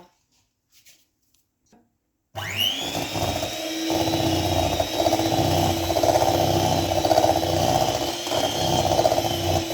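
An electric mixer whirs steadily through Christmas cookie dough. Near-silence comes first, then the motor starts abruptly and keeps a loud, even drone with a slightly varying pitch until the end.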